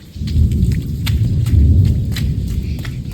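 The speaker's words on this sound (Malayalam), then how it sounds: "ഈ നല്ല വലിയൊരു ഇടിയായിരുന്നു പൊട്ടിട്ടുണ്ടെന്ന്" Heavy rain pours steadily with a deep, loud thunderclap rumbling underneath, close and continuous.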